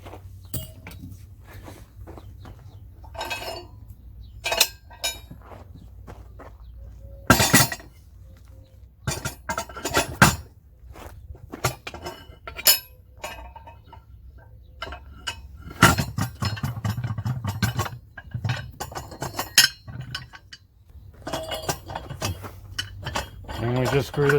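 A part of a manual tire changer being unscrewed in a small home garage, with sharp metallic clinks, scrapes and knocks arriving in irregular bursts between quiet stretches, close and crisp, while someone talks at times.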